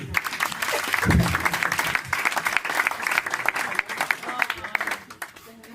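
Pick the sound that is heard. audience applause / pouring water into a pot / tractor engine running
audience applause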